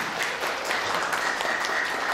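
A steady wash of applause fills a school hall during a lecture event, many hands clapping continuously with no speech on top.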